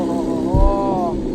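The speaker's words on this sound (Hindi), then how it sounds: "क्या खतरनाक साउंड है। BMW S1000 RR" A BMW S1000 RR sportbike engine hums at close range with a steady, buzzy tone and a quick swell in pitch midway, heard alone for just over a second.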